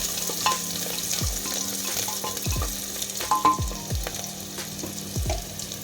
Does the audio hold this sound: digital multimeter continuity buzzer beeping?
no